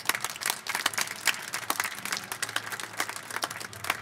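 Audience applause at a hacking competition award announcement, a modest crowd clapping with distinct individual claps, fairly quiet and a little distant.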